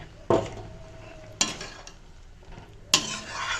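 Ground coconut paste goes into a pot of tamarind gravy as a spoon stirs it, with three sharp metallic clanks against the pot between quiet scraping, close by.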